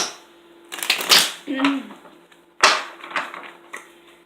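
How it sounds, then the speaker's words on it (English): Tarot cards are shuffled nearby in two bursts of riffling and flapping, with softer handling sounds between and after. "I'm going to go ahead and commune with Spirit as I bless and shuffle the cards."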